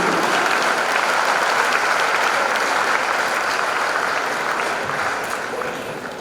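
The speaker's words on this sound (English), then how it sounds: "A big clap, a big clap, a bigger clap, a bigger clap" Sustained applause from a large audience at a university honorary doctorate conferral ceremony, a dense steady roar of clapping that stays loud before thinning slightly toward the end.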